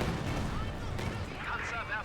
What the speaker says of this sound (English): Katyusha firing.